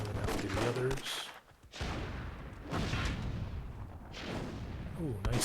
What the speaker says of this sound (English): Ooh, nice grenade there.